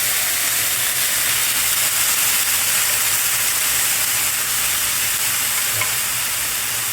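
Food sizzles and spits steadily on a hot pan, one serving spread out for Korean bibimbap in a cast iron setting, a continuous close, loud frying hiss with no talk over it.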